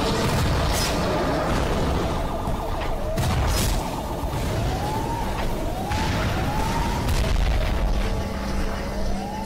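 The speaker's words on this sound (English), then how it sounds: "I love the explosions," Dull booms and blasts sound repeatedly over a wailing siren that rises and falls, with loud, busy noise throughout.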